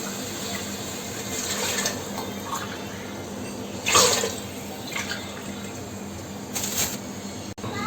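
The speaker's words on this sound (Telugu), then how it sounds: "నేను ఇప్పుడు 5 కప్స్ బియ్యం దీంతోనే పోసాను కాబట్టి దీంతో 10 కప్స్ వాటర్ వేస్తున్నాను చూడండి" Water runs and splashes steadily into a pot of rice being prepared for egg biryani, a continuous pouring hiss with a few brief louder splashes and clinks along the way, and no voices.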